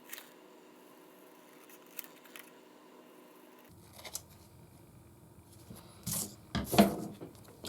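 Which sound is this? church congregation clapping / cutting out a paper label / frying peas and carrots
cutting out a paper label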